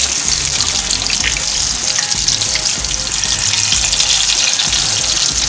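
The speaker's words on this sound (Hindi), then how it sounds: "ये मछली जो है मेरी एक तरफ से फ्राई हो चुकी है। आंच बिल्कुल मीडियम स्लो पे है मेरी" Fish frying in a pan of oil over medium-low heat, giving a loud, steady, dense sizzle that stays constant throughout with no pauses.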